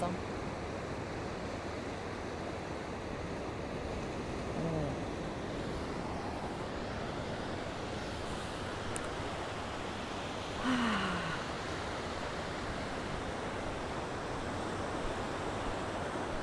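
Ocean waves wash onto a beach near a lighthouse as a steady, broad rushing hiss with faint wind noise, constant and fairly soft, with no distinct breaking crashes and no talking.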